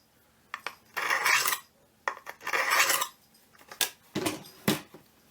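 A blade, a curved witch's-finger style knife, is stroked on a coarse-grit sheath sharpening rod in several separate passes, giving close, bright scraping swipes with brief pauses between them.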